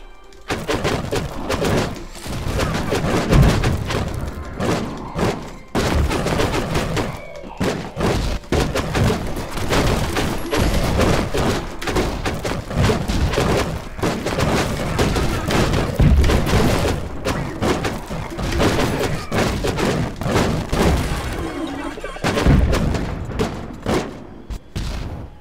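Gunfire in Almighty Kill Your Gods, with rapid, dense volleys of loud shots and thuds running almost without pause through a long stretch of combat.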